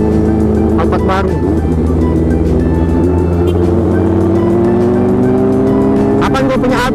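A car engine hums close and loud in busy street traffic, a new Toyota Alphard passing among other vehicles, while a voice talks over the constant engine drone.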